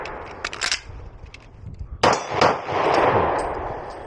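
A Sig P250 pistol in .40 S&W fires a few sharp shots, including a crisp crack at about two seconds, with a longer ringing report and echo after the final shot.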